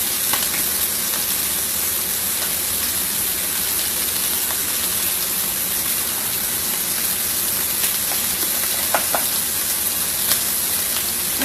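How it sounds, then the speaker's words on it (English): Thin pork chops sizzle steadily in a hot pan, a dense continuous frying hiss with occasional small pops and crackles, close and alone without talk. "I like the thin pork chops because they cook faster"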